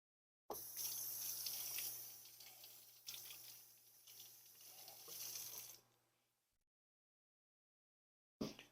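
Potatoes being washed under running tap water at a kitchen sink: a steady, close rush of water for several seconds with faint clinks, then the tap shuts off into silence before a brief sound returns at the end.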